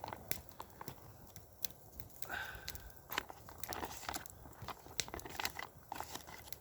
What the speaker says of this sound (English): I want to give this a really good stir